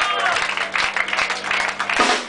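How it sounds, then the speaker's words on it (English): Concert audience applauding a band at a live show, dense sustained clapping and crowd noise filling the room from near and far, with voices mixed in. "Give a big round of applause for yourselves."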